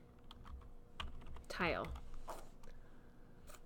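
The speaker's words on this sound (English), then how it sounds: "I'm going to click and type in tile." Quick bursts of typing on a computer keyboard while entering a material name in a building design program, close light clicks running under a voice as he talks.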